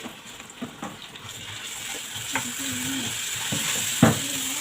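Garlic sizzles close up in a pan of ghee (samna baladi), a steady frying hiss broken by a few scraping stirs and light clinks, with no voices.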